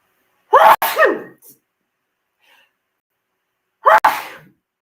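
Two sharp, loud sneezes close to the listener, the first followed by a short breathy trail, separated by a few seconds of silence.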